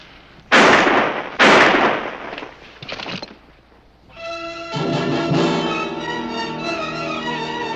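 Two sharp, loud gunshots ring out close together in a western TV shootout, followed by a softer third crack, then a swell of orchestral music takes over.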